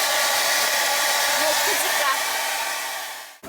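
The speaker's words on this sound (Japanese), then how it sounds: "ドライヤーは一応車の中でホタ電でやります。" A hair dryer runs inside a camper van on a portable power station, giving a loud, continuous whirring blow that fades slightly and then cuts off just before the end.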